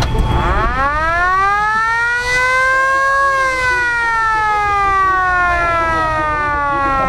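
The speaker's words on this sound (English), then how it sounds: "we've got a real old time police siren on that's top" An old-fashioned mechanical siren winds up to a loud wail, holds, then slowly winds down in pitch, close by.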